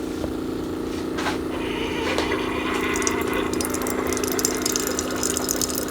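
A Keurig K-Duo Plus coffee maker runs its brew cycle with a steady pump hum and trickling, gurgling water, plus a few faint clicks, heard close and alone.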